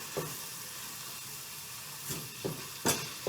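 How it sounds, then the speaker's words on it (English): Meat cooking in a pan makes a soft, low sizzle throughout, with a few brief utensil scrapes and taps near the end, heard up close with no talking. "So while your meat is cooking"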